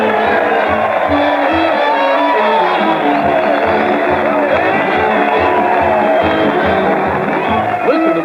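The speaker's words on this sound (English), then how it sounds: "Listen to that crowd cheer as Fred Allen leads the parade to the old Town Hall." A crowd cheering with a band playing in an old-time radio comedy show, a continuous dense roar of voices and music at steady loudness.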